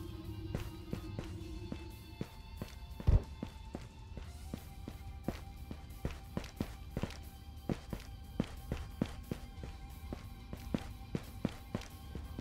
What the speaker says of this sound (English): Footstep.